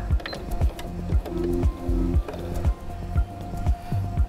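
Sewing machine stitching fabric for an envelope book cosy craft, a close, steady mechanical whir with rapid rhythmic needle clatter in repeated short runs, briefly pausing between bursts, no voices.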